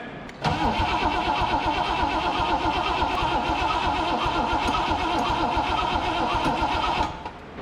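A 1963 Pontiac Grand Prix V8 runs steadily with all four downpipe bolts loosened, giving a loud, continuous exhaust rumble that starts abruptly and holds for about seven seconds before cutting off.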